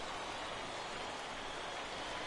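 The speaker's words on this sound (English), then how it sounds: "the rain starting to intensify here" Rain falling on a baseball field in the video game The Show 18, a steady, even hiss of downpour with no breaks, moderately faint and continuous, with no talking.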